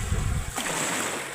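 Surf washing in at a beach, a steady broadband rush of breaking waves that swells up midway and continues close and moderately loud, with low wind rumble at the start.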